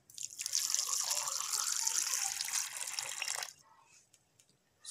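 Water poured over chopped jaggery to soak it, a steady broad splashing pour lasting about three seconds before stopping, close and fairly loud, followed by faint dripping.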